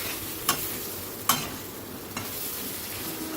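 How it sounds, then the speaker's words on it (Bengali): A metal spatula scrapes three times through previously fried taro pieces being stir-fried with spices in a wok, over a quiet, steady sizzle, with no talk. "ভেজে রাখা গাঁটি কুচুর টুকরোগুলোকে আমি দিয়ে দিয়েছি, দিয়ে মশলার সঙ্গে ভালো করে কষিয়ে নেব"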